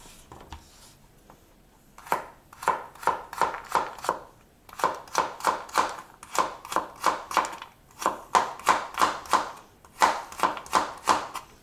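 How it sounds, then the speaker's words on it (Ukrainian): Knife chopping a carrot into thin strips on a cutting board while making soup with porcini mushrooms, a brief tap or two and then steady rhythmic bursts of quick, close cuts with short pauses between them. "Морку будемо такими стежечками нарізати."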